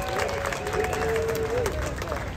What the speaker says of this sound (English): So let's give a big round of applause to our veterans one more time.